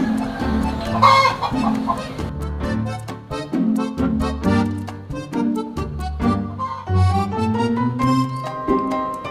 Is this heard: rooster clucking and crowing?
yes